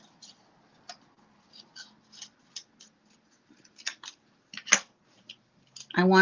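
Scissors cut a paper card in half in a series of sharp, separate snips, close and crisp, with quiet gaps between cuts that speed up toward the end, where a louder rustle of handled paper follows.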